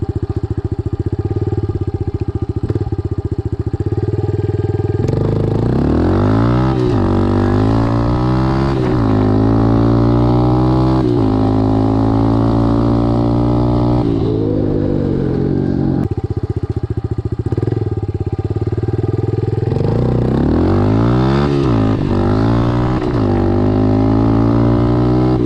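Honda CRF110 dirt bike fitted with a CJR throttle body revving hard as it accelerates up through the gears, loud and close, with rising engine pitch in repeated sweeps and brief drops between shifts.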